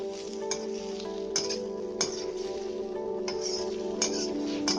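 Potato bhujia with spring onion frying in a pan, a steady close sizzle with a constant hum beneath and periodic scraping stirs every second or so, no talk.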